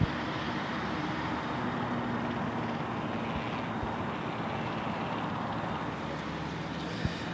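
A Boeing 787-9 Dreamliner jet descends to land at Boeing Field, heard as a steady, distant broadband roar that holds evenly throughout without voices.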